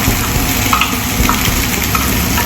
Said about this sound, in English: Everything goes into our pan and give it a good stir.